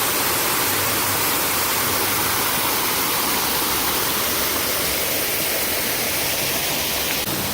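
Steady, full rushing roar of a garden waterfall, loud and close, with dense broadband water noise that holds unchanged from start to finish and no voices.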